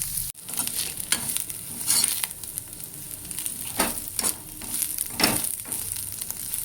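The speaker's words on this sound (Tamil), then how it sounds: "அப்படியே ஒரு 2 நிமிஷம் பரட்டி விடுங்க." Anchovy dry fish fries in a pan with a steady hissing sizzle, punctuated by a series of scraping stirring strokes, close and moderately loud.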